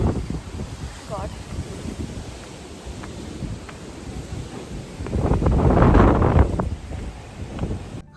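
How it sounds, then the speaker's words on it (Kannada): Strong wind gusts across an open spot at Destiny Farm Resort near Ooty, buffeting the microphone with a low, rough rumble. It swells to a loud gust midway, then eases, while a voice talks faintly over it. "ಎಷ್ಟು ಗಾಳಿ ಐತೆ ನೋಡ್ರಿ"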